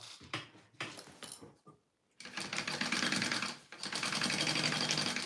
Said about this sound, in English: I'm just gonna baste mine so it doesn't move on me